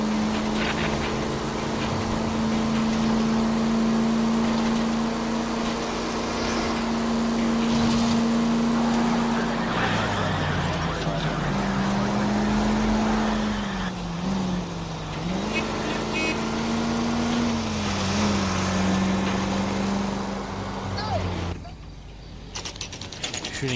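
Video-game car driving in L.A. Noire: a sustained engine drone that shifts pitch as the car speeds up and slows, with mechanical clicks and road noise, continuous and loud before cutting off near the end.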